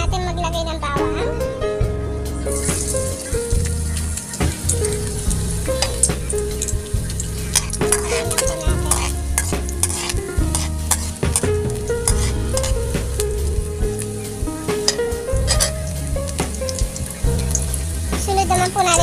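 Garlic frying in oil in a pan for chicken adobo, a sizzle mixed with repeated scraping and clattering from stirring and utensils, louder bursts throughout and no speech.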